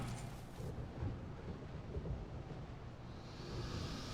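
Thunderstorm in the video game Dark Souls 2: a dense, continuous rumble of thunder with rain-like hiss, steady and fairly loud throughout, with no talking.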